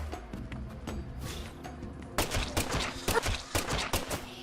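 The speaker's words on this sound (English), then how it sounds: "I'm gonna shoot you down." Rapid bursts of gunfire in the video game Deadly Premonition 2, shots aimed at an enemy, sharp repeated cracks growing louder and denser over a steady low game backdrop.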